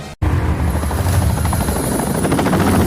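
Heavy military helicopter rotors in a Bollywood action scene, a loud, steady, close thudding roar with engine whine that fills the whole stretch after a brief silent gap at the start.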